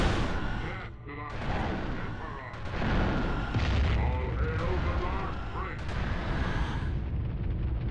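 Dense, continuous weapon fire and booming blasts in the video game Warhammer 40,000: Fire Warrior, loud and cluttered with rumbling impacts and a voice talking over the din.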